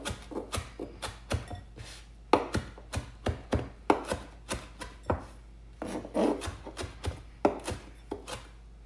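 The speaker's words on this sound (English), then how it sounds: "just chop away. Just a rough chop, nothing special really" Knife roughly chopping ingredients for mango salsa on a board, a steady run of close, crisp chops about every half second, some quick clusters, with no talk.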